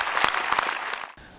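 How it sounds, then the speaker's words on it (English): Spectators at an Army change-of-command ceremony applaud in a short burst of clapping with a few distinct claps that cuts off abruptly near the end. "Please join me in a round of applause for these brave families"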